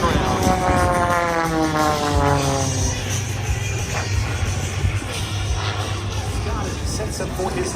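Aerobatic propeller airplane flying low, about 50 feet up, at the 2024 Vidalia Georgia Onion Festival airshow; its loud engine drone sweeps downward in pitch as it passes, then roars steadily while an announcer talks over it.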